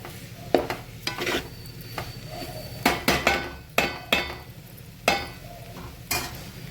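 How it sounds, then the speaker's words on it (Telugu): Bitter gourd pieces are stirred with cumin-fenugreek spice powder in a pan. A spatula gives about a dozen sharp metallic knocks, some single and some in quick pairs, over a low steady sizzle. "ఒకసారి అయితే కలుపుకోవాలి."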